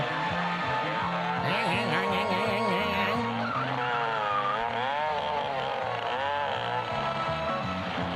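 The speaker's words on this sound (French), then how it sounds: "les motos, ça n'arrête pas de couiner, on dirait des tronçonneuses" High-pitched motorcycle engines whine and wail continuously, rising and falling like chainsaws, loud and overlapping throughout.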